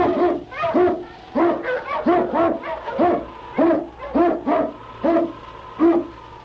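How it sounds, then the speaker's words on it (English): A husky Eskimo lead sled dog barks in an old radio drama, a rapid run of about a dozen loud, close barks in a quick rhythm with no talk. "King, the swiftest, strongest of Eskimo lead dogs, blazes the trail through storm and snow"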